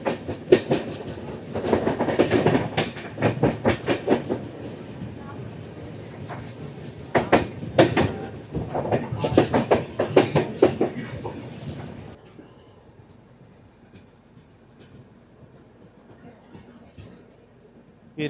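Korba Express 18518 on rails near Bilaspur, clattering bursts of wheel clicks and rattles in irregular clusters, then the noise drops to a quiet low rumble for the final seconds.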